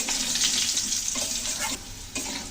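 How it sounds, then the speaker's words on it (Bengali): Lentil dumplings (bori) sizzle as they fry in oil with potatoes, a steady close hiss with watery crackle throughout and brief dips in intensity, no voices. "বড়িগুলো কিন্তু ঠিক মতোই ভাজা হয়ে গেছে"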